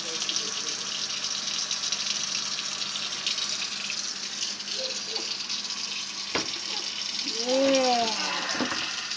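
Water running steadily from a tap while a baby's hair is washed in the bath, a continuous close gush with a short voiced sound near the end.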